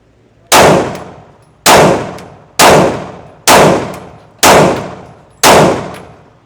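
Six evenly spaced, loud, close shots from an M&P Shield X pistol firing Blazer 115 grain ammunition, each a sharp crack with a quickly decaying echo.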